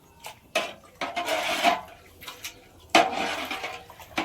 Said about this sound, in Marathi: हा गंज आता चुलीवर ठेवून घेऊ.